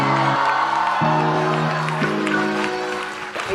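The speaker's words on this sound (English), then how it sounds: "you've got to promise me that you're going to give her a rousing applause" An audience applauds and cheers for Malaika Arora, with clapping and whoops spread through the hall under a loud sustained musical tone that changes pitch in steps, the crowd noise tapering slightly toward the end.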